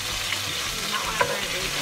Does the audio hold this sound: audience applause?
no